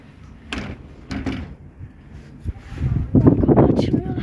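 A locked wooden door at an animal shed being shaken and rattled, several loose knocking jolts and rattles close to the microphone, with someone talking and some wind noise.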